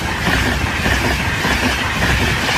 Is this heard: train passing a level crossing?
yes